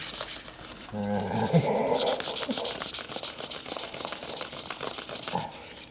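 Fine-grit sandpaper rubbed by hand over a Harley Sportster part, a rapid rhythmic scratchy back-and-forth swishing, close and steady, with a brief voice at the start.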